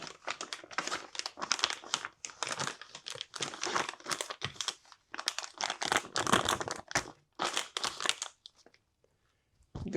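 Plastic sealer bag crinkles and rustles in repeated close bursts as a lightly salted chuck steak is slipped inside, with short pauses between handling sounds.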